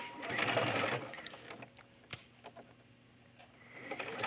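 A sewing machine runs in a quick, buzzing burst while stitching two collar pieces placed right sides together, then stops, leaving faint clicks and light handling noises before the motor starts again softly.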